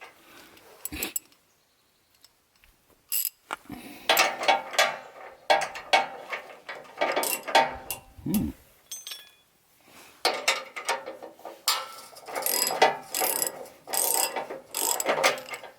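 A socket wrench ratchets in quick bursts of clicking as bolts are run in along the rail of a Wood-Mizer sawmill deck, with pauses between strokes and occasional metallic clinks, close and fairly loud.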